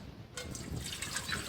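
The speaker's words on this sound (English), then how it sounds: "So we're using 2 cups of water, which we are going to pour into this" Water pours into a sufuria cooking pot as part of turning bar soap into liquid soap, a quiet, steady splashing that starts after a brief lull and runs on alone.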